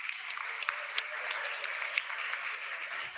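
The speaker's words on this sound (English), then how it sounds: "Please give the panelists a round of applause." Audience clapping for panelists at the close of a public meeting on an environmental impact assessment in a Cayman Islands church hall, a modest, steady round of applause with distinct individual claps, fairly faint.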